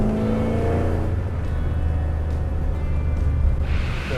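Car engine fitted with Holley EFI pulls steadily under throttle after a downshift into a lower gear, a loud, continuous low drone with a slight rise near the end, heard alone without talk.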